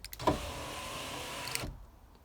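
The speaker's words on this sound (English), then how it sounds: "So I can go up and down with this one." The electric window motor in a VW Golf Mk3 drives the glass, giving a steady whirring hum just over a second long that starts and stops abruptly, with a faint click at the start.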